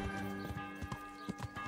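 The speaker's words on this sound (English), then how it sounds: "There's that horse standing there on its own." Horse hooves clip-clop at a steady walking rhythm in a medieval town setting in Kingdom Come: Deliverance, fairly close, with a constant tonal hum of game ambience underneath.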